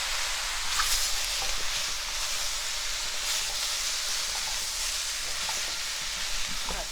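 Carrots and other ingredients for beef bourguignon being stirred in a pot, a steady sizzling hiss with scraping and clinking of the spoon throughout, close and continuous with no talk.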